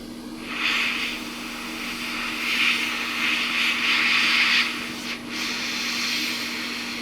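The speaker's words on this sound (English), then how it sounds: "Let's try and heat this board up." A hot air tool blows steadily onto a faulty Switch controller circuit board at 200 degrees, giving a close, continuous airy rush with a low steady hum underneath and a brief dip near the end.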